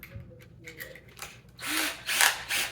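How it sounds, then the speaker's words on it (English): A drill driver on a low clutch setting drives screws into Euro drawer slides, producing short, loud, close-up bursts of whirring and ratcheting after a quieter stretch of faint handling noises. "I suppose on these drawers I could use the drill driver on a low setting"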